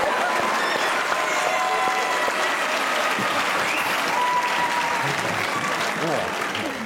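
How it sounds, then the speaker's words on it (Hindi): Studio audience applause on a Pakistani comedy talk show, a dense, steady clapping that runs loud and continuous from start to finish, with crowd noise mixed in. "एक बार ताली हो जाए"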